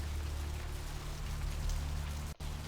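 Steady rain falls on surfaces in the video game Vampire: the Masquerade - Bloodlines, a continuous hiss and patter with a low hum underneath and a sudden momentary dropout near the end, no talk.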